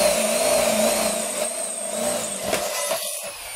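A Total 850W electric drill runs at a steady high whine, close and loud, with a slight dip in pitch near the end as it slows.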